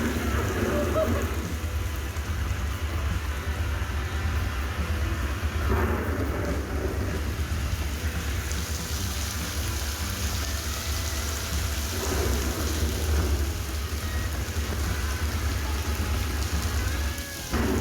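Rain falls at night in the Jim Corbett jungle, played on a display: a heavy, steady downpour with deep rolling thunder rumbling underneath, swelling and fading in several long waves.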